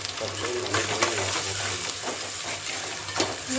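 Tomatoes sauté in a pan for a fish curry, giving a steady soft sizzle with occasional stirring scrapes and faint clinks, close by and fairly even.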